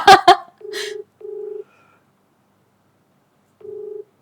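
A phone call on loudspeaker gives repeated ringback tones: two beeps close together, a long pause, then another beep, heard right after brief speech and clean against silence.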